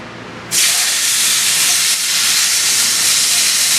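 Carne asada meat hits a hot skillet and a loud, sharp sizzle bursts in after half a second of quiet, then holds as a dense, steady hiss up close.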